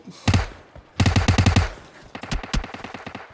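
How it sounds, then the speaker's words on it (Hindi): Rapid automatic gunfire from PUBG Mobile, a battle royale shooter, comes in loud, sharp bursts of several quick shots each, with short pauses between bursts and no talk over it. "यहाँ पे पता नहीं कहाँ से फायर हो रहा है मेरे को"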